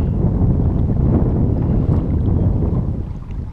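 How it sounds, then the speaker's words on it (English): North wind gusting over a small fishing boat on open water, a steady, loud rushing roar buffeting the microphone throughout and easing slightly near the end. "I can feel the north wind starting."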